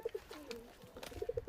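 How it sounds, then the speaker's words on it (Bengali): Pigeons in a loft, short-size Laldum and Kamakha birds, coo in a series of soft, close, rounded notes, with a quick run of repeated coos near the end over faint background rustle. "এই যে পায়রা দেখুন।"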